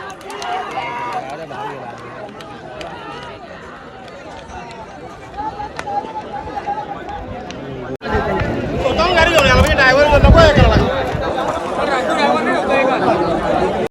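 A big crowd chatters and shouts at a bullock cart race ground, a steady murmur of voices that swells much louder and busier partway through, with people talking close by.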